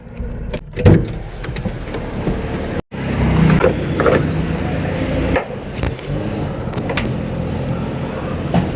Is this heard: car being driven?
yes